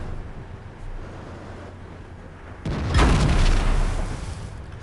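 A single heavy tank gun shot in World of Tanks, aboard an American T-34 heavy tank, booming out loud and close as a sudden low blast that rumbles for about two seconds above steady engine drone.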